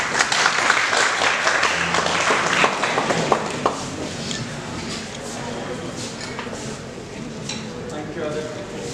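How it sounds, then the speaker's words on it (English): Applause from a crowd, loudest at first and then thinning into scattered clapping over several seconds. "Please join me in extending a warm round of applause."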